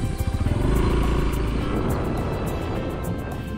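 A motorcycle rides across the middle of an airport runway in Nicaragua, its engine a loud, steady drone close to the microphone, with pulsing low rumble and wind buffeting throughout and no talk.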